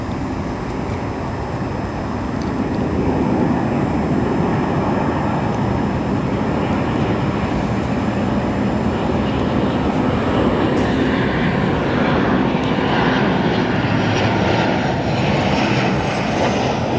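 An arriving airliner lands on runway 10 Center at O'Hare International, a continuous loud engine roar that holds steady for the whole stretch, heard from a nearby outdoor vantage with broadband rumble and no talking.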